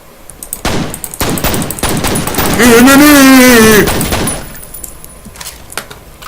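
Gunfire in the shooter game F.E.A.R. rattles in rapid bursts near and loud, followed by a long sustained tone swelling and fading; someone talks over it.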